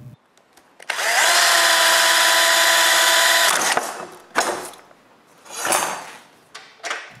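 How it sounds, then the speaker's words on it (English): A power drill whines loudly and steadily for nearly three seconds while drilling a hole for a locking knob, then stops, followed by several scraping and clunking handling sounds. "Next, I drill the hole for the locking knob."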